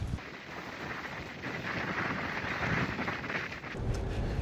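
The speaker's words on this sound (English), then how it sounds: "This wind is nuts." Strong, cold wind blows along a jetty on the Yorke Peninsula while camping, buffeting the microphone in a constant loud roar with gusty swells and no talk.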